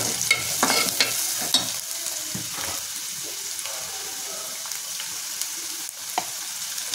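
Spices sizzle steadily in hot oil as turmeric and asafoetida are sautéd to a golden colour, with a few sharp stirring scrapes over a constant frying hiss, close and moderately loud with no voices.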